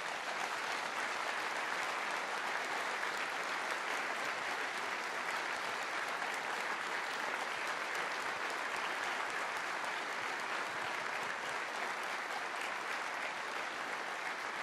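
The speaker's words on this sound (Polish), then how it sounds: "oklaski" Steady, dense applause from a large audience at a political party national council gathering, unbroken and even throughout, with no voices standing out.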